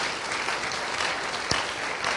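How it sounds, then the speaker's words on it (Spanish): Strong, steady applause fills a church congregation throughout, a dense continuous clatter of many hands with one sharper clap standing out near the middle. "Dele un aplauso fuerte de alabanza al Señor"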